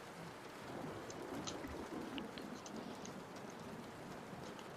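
Steady rain pours down across the whole stretch, a dense even hiss with scattered droplet ticks and a low rumble of distant thunder underneath, fairly quiet and unbroken.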